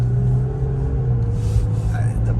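2006 Toyota RAV4 with a 3.5L engine while driving, a steady low engine rumble inside the cabin with a voice talking over it.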